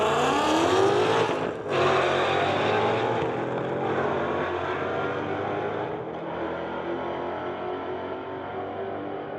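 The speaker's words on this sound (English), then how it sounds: "Our last two cars for tonight, Mustang versus Mustang." Two Ford Mustangs launch side by side at a street-legal drag racing night, their engines roaring loud and close, then holding a steady, slowly fading full-throttle howl as they run down the strip.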